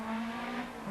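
A BMW rally car on its debut event, leading a stage of the 1987 Garrigues Rally, gives a loud, steady engine drone that holds one pitch for under a second with no voices.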